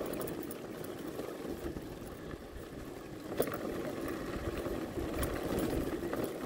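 A motorcycle engine runs steadily during a test ride after engine work in rural Monte Santo de Minas, a continuous low, rough drone with road and wind noise and no talking.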